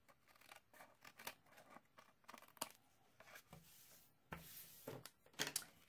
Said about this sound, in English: I'm just going to trim off the excess here with my paper snips